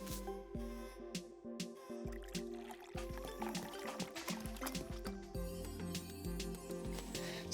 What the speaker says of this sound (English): pour oil into a small bowl